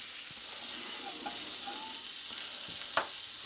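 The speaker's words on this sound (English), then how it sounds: "So I've just chucked a bit of butter in, just to take on a bit of that flavour." Butter sizzles and spits in a hot pan around a steak, a dense, close frying hiss holding steady throughout, broken by a few faint stirring taps and one sharp click near the end, with no talking.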